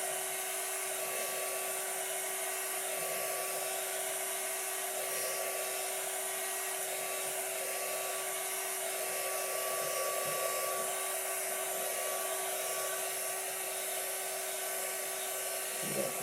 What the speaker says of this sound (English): Make sure you do not touch the shrink wrap with your heat gun.